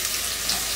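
A medium imported cooking onion fries in a pan with a steady, close hiss of sizzling oil over a brief stretch, no voices.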